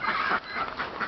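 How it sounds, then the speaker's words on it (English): A chicken clucks in a backyard orchard, a short, steady run of close, moderately loud fowl calls with a brief dip partway through. "Beautiful chicken."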